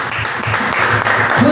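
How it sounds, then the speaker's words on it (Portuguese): A church congregation applauding in a short burst of steady clapping mixed with voices, fairly loud and close. "Aplaudam Ele, igreja."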